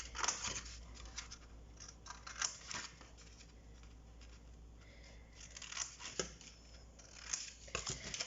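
Scissors snip through paper to cut eight tabs for a folded box, a string of close, crisp cuts and rustles with short pauses between them.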